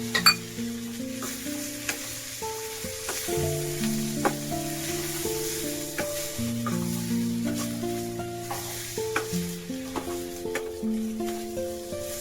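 Coriander and cumin seeds roast in a pan with almonds and chillies, giving a soft sizzle and occasional stirring scrapes and taps under sustained background music, fairly quiet.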